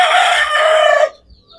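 A molting gamefowl rooster crows once, loud and close, a long harmonic call lasting about a second before cutting off into near silence.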